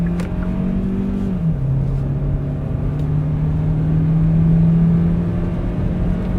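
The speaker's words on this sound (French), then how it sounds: "je vais faire une petite accélération en mode sport" A Hyundai Tucson hybrid's 4-cylinder engine is pushed hard in sport mode, with a loud, steady drone of revs building and shifting pitch from inside the car, with no talking over it.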